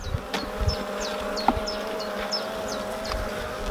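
Honey bees buzz around a hive frame, with a dense, close hum of many wings and individual bees swooping past.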